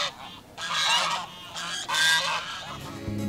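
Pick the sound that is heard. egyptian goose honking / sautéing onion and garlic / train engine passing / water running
egyptian goose honking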